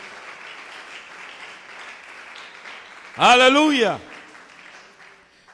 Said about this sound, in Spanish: Dele un aplauso al Dios de la gloria.